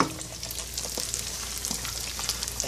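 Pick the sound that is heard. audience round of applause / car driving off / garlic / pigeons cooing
garlic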